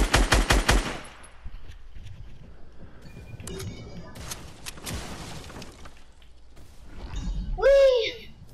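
A quick burst of rapid gunfire from dual pistols in a video game opens loudly, followed by scattered fainter shots and clatter while a young voice talks over it.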